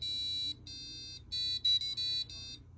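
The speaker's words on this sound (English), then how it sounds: "the buzzer plays a little tune." A passive buzzer on a joystick sensor circuit beeps out the intro of a song in a series of shrill, reedy electronic tones of varying length, faint over a low hum.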